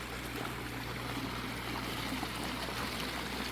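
A small tabletop water feature trickling, a soft, steady burble of running water heard close up and quiet, with a faint low hum beneath it.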